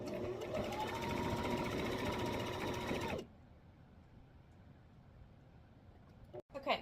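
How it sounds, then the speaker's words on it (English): A sewing machine runs steadily for about three seconds while stitching fabric on a ruler organizer project, its rapid mechanical whir loud and close, then cuts off abruptly and leaves quiet room noise with a brief handling sound at the end. "Put my presser foot down, and then I will start sewing again."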